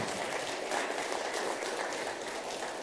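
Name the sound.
audience applause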